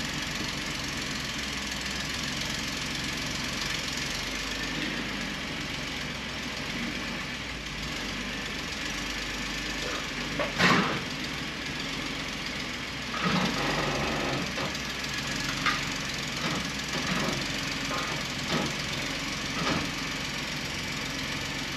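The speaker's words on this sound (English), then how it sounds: "So we're just going to drive it up on the scales." A Ford F-150 pickup, steel versus aluminum bodied, rumbles steadily as it is driven up onto truck scales, with a low idling engine throughout and a few brief knocks and clatters midway.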